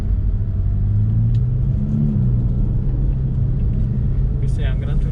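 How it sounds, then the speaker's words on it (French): A Ferrari Roma grand tourer accelerates, heard from inside as a loud, continuous low engine rumble with a rising tone, with people talking over it. "quand tu veux accélérer, Ah ouais, bah, il accélère"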